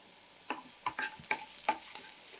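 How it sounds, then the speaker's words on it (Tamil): Onions with a pinch of salt fry quietly in a pan under a soft hiss, broken by five evenly spaced scrapes from a spatula stirring them, heard close and with no one talking. "வெங்காயம் வந்து ரொம்ப ஃப்ரை ஆகணுங்கிற அவசியம் இல்லைங்க, லேசாக பாதி ஃப்ரை ஆனால் போதுமானது"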